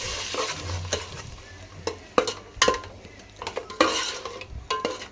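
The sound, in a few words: stirring mutton paste into a cooking pan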